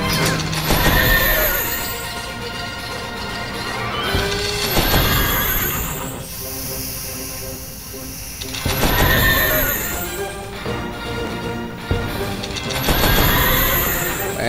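Horse neighs and whinnies ring out from a casino slot video game, several loud whinnies over busy electronic jingles and chimes, with clip-clop accents between them.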